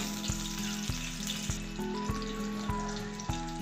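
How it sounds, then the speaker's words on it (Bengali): Potato and eggplant fry together in hot oil over a medium gas flame, giving a continuous close sizzle with regular sharp clinks of a utensil against the pan. "আমি আলু বেগুনটা একসঙ্গে ভাজলাম"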